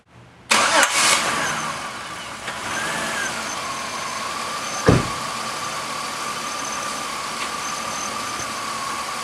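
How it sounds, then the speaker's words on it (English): A car engine cranks and catches with a loud burst, then settles into a steady idle that carries on to the end, while the car is under diagnostic testing with its oxygen sensor still warming up. "Now let's start the car and see what happens."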